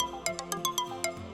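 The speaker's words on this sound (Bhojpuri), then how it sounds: "देवांशी, आकाश के फोन बा, इला।" A phone ringtone in a family drama scene, a bright electronic melody of quick chiming tones in a repeating pattern, clear and close with no talk over it.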